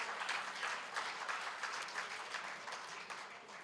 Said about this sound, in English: doesn't that deserve a round of applause?